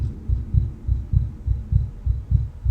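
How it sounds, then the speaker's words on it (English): A heartbeat sound effect from the video game Cataclysm DDA thumps in a steady, low double-beat rhythm, about eight beats in quick succession, close and prominent, with no talking. "Turn on the sounds, because the heart rate sound is so useful."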